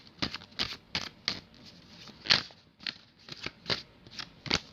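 Tarot cards shuffled by hand in bursts of crisp riffling patter, about ten quick flurries with short gaps, close and fairly quiet, no talking.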